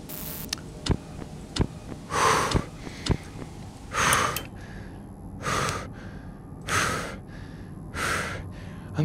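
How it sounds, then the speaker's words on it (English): Panicked, fearful heavy breathing from a player of a Five Nights at Chuck E. Cheese's horror game, a series of loud gasping inhales and sighing exhales in a steady rhythm, interspersed with sharp clicks. "I'm actually breathing out of fear."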